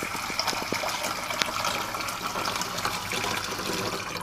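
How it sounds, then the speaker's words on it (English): Tap water runs from a kitchen sink faucet into a cooking pot, a steady, close rushing stream that holds evenly with a few brief clinks near the start. "let's go get some water in our pot"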